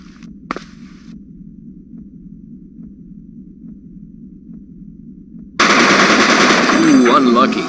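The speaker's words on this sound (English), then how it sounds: "Let's try out a submachine gun." Submachine gun fire in the PS2 game Die Hard Vendetta: after a quiet stretch with a single sharp report, a loud continuous burst of rapid automatic shots erupts and runs to the end.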